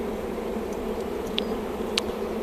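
Honeybees crowding a queen-rearing cell-builder hive box produce a steady, low hum. A couple of brief, sharper buzzes pass close by. There is no talking.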